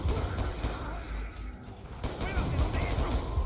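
Rapid video-game gunfire in Black Ops II crackles in dense bursts throughout, with a voice talking over the shooting.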